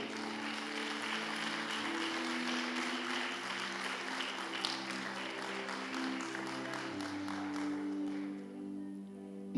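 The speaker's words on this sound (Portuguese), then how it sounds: "Então louve Ele com as palmas, louve." A church congregation claps in praise, a dense, steady wash of applause under a sustained held musical tone that thins near the end.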